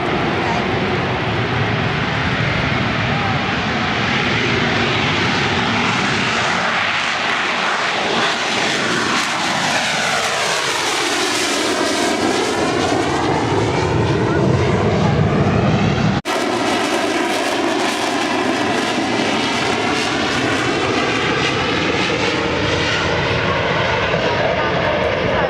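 Jet aircraft roaring through a short takeoff at the Farnborough Airshow, a loud, continuous engine blast whose pitch sweeps as the plane passes, with talk over it.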